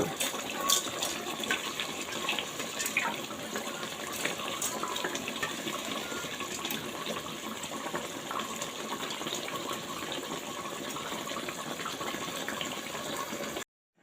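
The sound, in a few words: water poured into cooking pot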